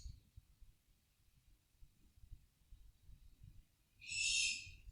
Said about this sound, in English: Oh, you can definitely hear the bird.